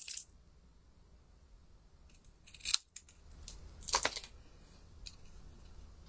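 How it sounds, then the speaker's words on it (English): Scissors trimming a piece of card, with a few distinct crisp snips spread across the clip, close and fairly loud against a quiet room. "We'll just trim that piece off."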